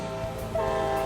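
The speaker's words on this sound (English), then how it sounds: "Amtrak train number 8, also named the Empire Builder, is headed west to Seattle." A model Amtrak Empire Builder train sounds its horn loudly and steadily, with a layered chord that swells partway through over a low rumble of the running train.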